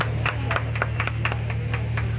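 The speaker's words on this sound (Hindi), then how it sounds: "राजेश कुशवाहा जी, कुशवाहा मित्र मंडली, आप लोगों को जोरदार तालियां बजाना चाहता हूँ।" Hands clapping in a steady rhythm, like a small crowd applauding, with a low hum in the background and no one speaking.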